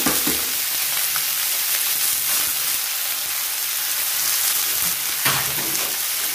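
Egg goes into a hot pan for stir-fried glass noodles, producing a steady, close, hissing sizzle like rain on a surface, with a few faint stirring clatters along the way.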